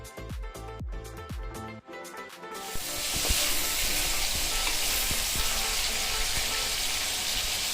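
Marinated prawns hit hot oil in a pan and burst into loud, continuous sizzling, preceded by a few seconds of clinking and clattering cookware; the frying hiss then holds steady to the end.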